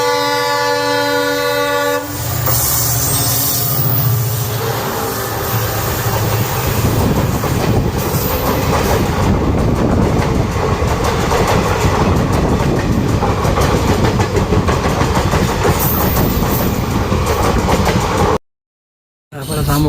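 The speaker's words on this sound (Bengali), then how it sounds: "মুঙ্গিয়াগামী আই যাইতে এক্সপ্রেস ট্রেন আই বসছে।" An express train near Agartala passes close by, a long loud blast of its horn giving way to heavy rolling rumble and clattering wheels, then an abrupt cut to silence near the end.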